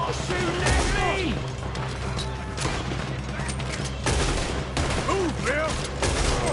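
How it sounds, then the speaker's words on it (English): Bursts of gunfire in Red Dead Redemption, rapid overlapping shots and ricochet-like whistles in a busy firefight, with voices talking over the shooting. "Why are they all shooting at me?"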